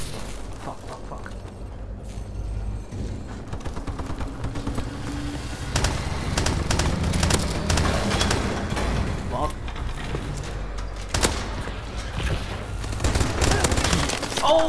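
Sustained automatic gunfire in a Call of Duty Advanced Warfare multiplayer Gun Game match on PS4, dense rapid bursts and sharp reports layered with explosions and game effects, loud and continuous throughout.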